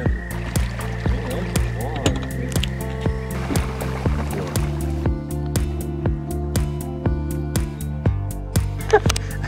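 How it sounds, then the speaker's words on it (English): Hybrid stripers and white bass splashing as they spawn at the water's surface near a ridgeline at dusk, a steady run of sharp, repeated splashes and slaps close by, with occasional boat or paddle knocks underneath. "Those splashing sounds we hear are hybrids and white bass, hybrid stripers and white bass in the act of spawning at the surface of the water"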